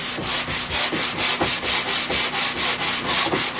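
Quick back-and-forth sanding strokes scrub the back of a 3/4-inch pine tongue-and-groove board to remove burrs, a close, loud, rhythmic rasp repeating about four times per second with no voices.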